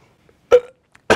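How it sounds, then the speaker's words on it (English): An attempted burp comes out as one short, throaty belch, followed after a pause by a faint click and then a second brief guttural burst. It is heard close up, with no talk over it. "Trying to burp."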